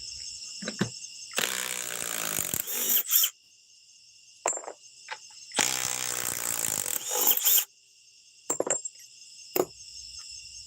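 A socket comes off a subcompact stubby ratchet amid bursts of dense clicking and whirring ratchet mechanism, two long spells and several short clicks, set against a constant high-pitched whine in the background.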